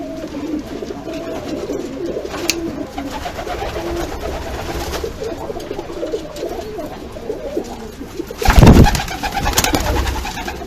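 Shortface pigeon chicks coo softly and repeatedly in a loft, low murmuring calls layered over steady background noise, with a brief louder flurry near the end.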